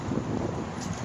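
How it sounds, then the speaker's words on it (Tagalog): Gusty wind blows outdoors on a cool day, a steady loud rush buffeting the microphone throughout, with no talking. "It's windy today."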